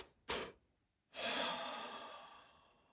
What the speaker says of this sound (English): Let's do our deep breath.